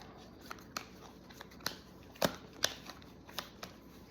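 Tarot cards shuffled by hand, a series of soft crisp riffles and slaps at an irregular pace, quiet and close with no talking.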